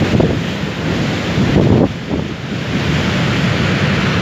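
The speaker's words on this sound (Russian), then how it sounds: "Вот море так долбит." Sea waves pound an eroded shoreline where a house has collapsed, a loud continuous roar of surf mixed with heavy wind buffeting the microphone, with no voices.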